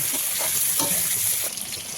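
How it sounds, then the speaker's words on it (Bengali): Potato and papaya pieces fry in hot oil in a kadai for a mutton curry, a brief, close, steady crackling sizzle with light stirring and no voices. "আর পেঁপে আমি লাল লাল করে ভেজে তুলব"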